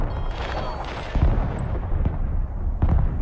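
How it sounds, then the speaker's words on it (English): Artillery firing in the real-time strategy game Broken Arrow during a multiplayer match: a rumbling barrage with a few heavy booms standing out over dense low battle noise, near and loud. "I'm shooting on their artillery"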